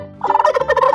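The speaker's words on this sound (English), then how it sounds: "Turkey." Turkey gobbling, a single loud, close, rapid warbling burst lasting under a second.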